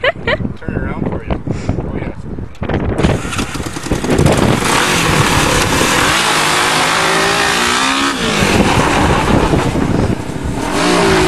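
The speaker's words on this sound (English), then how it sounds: "off-roading in the go-kart" A full-size go-kart engine revs and roars close by while driving off-road through mud on a farm, loud and continuous with rising and falling pitch, and people talk over it at the start.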